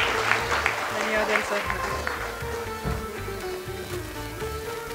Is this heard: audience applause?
yes